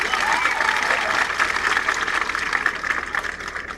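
A crowd at a political speech rally applauds, a dense continuous clapping that holds strong then gradually thins and fades toward the end.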